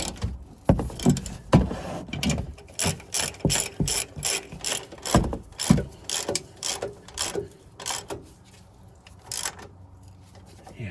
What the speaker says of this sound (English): Maybe use a longer ratchet that reaches.